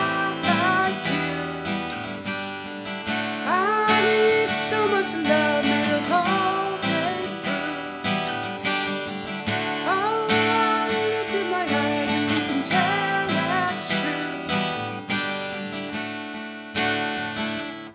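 Acoustic guitar strums the chorus chords of a song, G-based, in a steady rhythmic pattern with ringing chords, played continuously and alone at an even moderate loudness.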